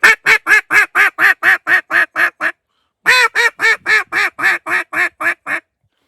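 A duck call imitates a hen duck: a loud descending run of about ten raspy quacks, a short pause, then a second, similar series of quacks.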